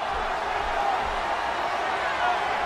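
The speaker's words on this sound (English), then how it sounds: "Would you listen to this crowd show their appreciation for these amazing competitors?" A dense arena crowd in the WWE '13 wrestling game roars and cheers steadily during a steel cage match, a constant loud wash of noise with a commentator's voice speaking underneath.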